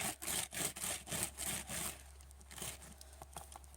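A Big Shot die brush rubs cut paper bits off a die, giving quiet rhythmic scrubbing strokes, louder and regular at first, then softer and more scattered.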